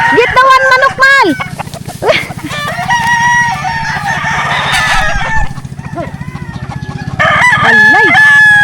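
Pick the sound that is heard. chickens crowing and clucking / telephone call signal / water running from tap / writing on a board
chickens crowing and clucking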